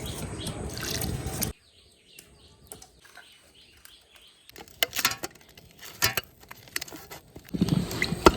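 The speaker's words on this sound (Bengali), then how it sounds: "এবার জল দিয়ে দিচ্ছি" Water splashes into flour mixed with oil and ghee for luchi dough. The pouring comes as two loud, rushing bursts at the start and end, with quieter scattered pattering and handling noises in between.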